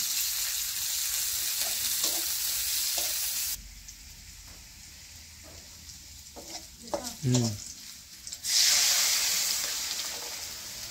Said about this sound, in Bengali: মুগ ডাইল দিচ্ছি পেঁয়াজ দিয়ে সম্বাস দিতেছি